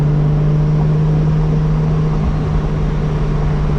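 Toyota Supra MK4 engine on a spirited drive, a loud, steady droning hum heard from inside the car at a held pitch, without talking.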